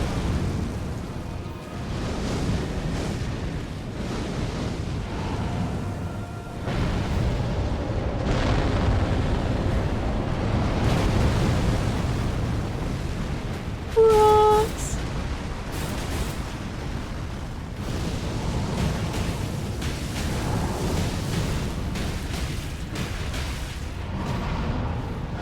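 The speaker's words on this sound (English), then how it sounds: "Are you gonna start off with the explosion?" A deep rumbling blast in the video game Elden Ring rolls on as a sustained low roar, with a brief bright tonal ring cutting through midway.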